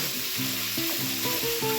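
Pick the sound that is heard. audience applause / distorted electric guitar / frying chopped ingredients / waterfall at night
frying chopped ingredients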